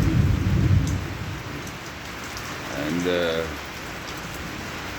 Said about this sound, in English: bucketing down here with rain